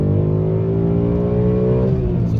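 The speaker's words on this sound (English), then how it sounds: "let's go wide open throttle" A Dodge Demon engine held at wide open throttle, a loud, sustained, close-up roar with rising harmonic whine and no pauses or voices.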